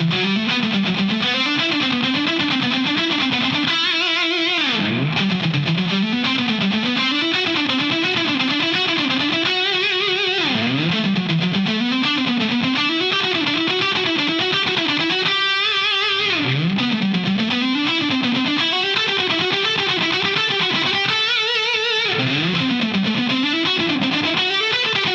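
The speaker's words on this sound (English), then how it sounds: "I'm playing with a lot of distortion" An electric guitar with heavy distortion plays repeated bending riffs with brief chordal breaks, loud, dense and steady throughout, no voices.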